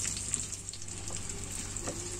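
Sliced small onions hiss and sizzle in hot oil in a clay pot, a soft, fairly faint continuous frying sound with a few light clicks and no talking.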